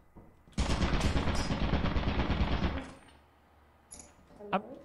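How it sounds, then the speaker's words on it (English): A machine gun firing in a video game, with a sustained rapid burst of several seconds that ends abruptly, followed by quieter scattered game sounds and a short sharp hit. "There's a machine gun in the corner."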